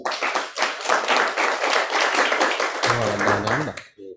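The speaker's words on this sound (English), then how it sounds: "And another round of applause." An audience at a political ideological clinic claps in a dense, steady round of applause, with a voice speaking briefly near the end as the clapping fades.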